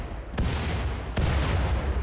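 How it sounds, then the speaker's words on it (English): Grenades explode in the colony-building game Rimworld: two sharp booms, each followed by a dense, broad, rumbling roar that fills the short stretch. "Oh, they're throwing grenades at the boom rat."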